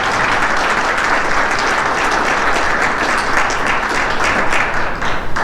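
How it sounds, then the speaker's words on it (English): A room full of diners at a Republican Reagan dinner applauds loudly, sustained clapping from many hands with faint crowd murmur and no speech on top. "Please give a round of applause for that."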